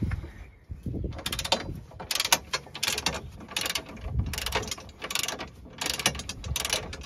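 A ratchet spins out long bolts from the front bar of a BMW i4, giving repeated bursts of loud, close clicking in a steady back-and-forth rhythm, with no voices.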